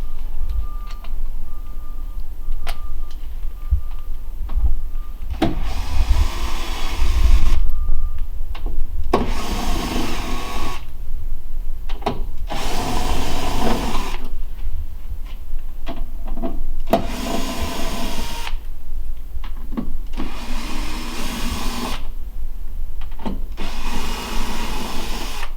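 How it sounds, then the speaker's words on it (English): A power screwdriver whirs in repeated short bursts, backing six Torx head screws out of the top panel of an Ultra-Aire 90H dehumidifier, close and steady with pauses between each screw. "go ahead and remove the 6 Torx head screws"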